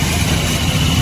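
Buses and other vehicles idle in a traffic jam on a road in Bolpur, a steady low engine rumble that holds without a break.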